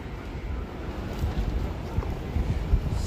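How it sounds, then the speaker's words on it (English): Wind rushes along a Tokyo street in Shibuya, buffeting the microphone with a steady low rumble and occasional stronger gusts and no voices. "And also so windy."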